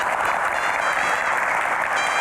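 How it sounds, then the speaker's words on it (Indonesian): Enthusiastic audience applause welcoming a deputy minister onto a stage at an Indonesian Q&A event, steady dense clapping from a large crowd that holds at full strength throughout. "Tepuk tangannya boleh lebih meriah lagi"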